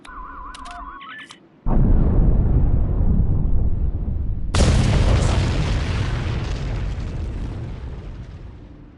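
A loud explosion in a Star Trek science-officer scene strikes after short electronic beeps, then a second heavy blast hits and fades into a long rumbling roar.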